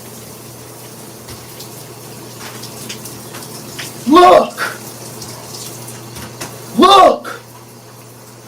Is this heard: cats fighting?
no